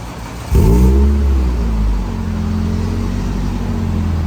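A Toyota AE92 engine, swapped to a 2ZZ-GE, cranks and catches with a loud surge, revs briefly, then settles into a steady, rumbling idle close by.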